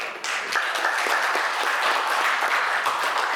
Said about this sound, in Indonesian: boleh dong tepuk tangan lagi dong buat perwakilan dari bidang pewartaan